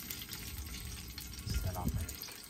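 Onions sizzle softly in fat in a pan at an outdoor campsite cookout, giving a steady, quiet crackle with a brief louder burst midway.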